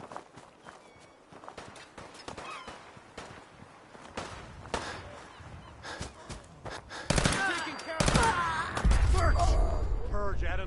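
Gunfire in Fallout 4 bursts out as sharp, loud cracks late in the sequence, mixed with scuffing footsteps and busy game noise; voices are present.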